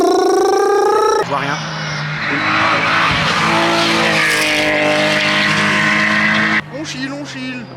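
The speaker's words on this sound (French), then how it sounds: "Attention la voiture arrive." A Renault 19 F2000 rally car roars in and speeds past on a stage of the Rallye Vallée Ognon, its loud engine note rising and sweeping by close, with spectators talking nearby.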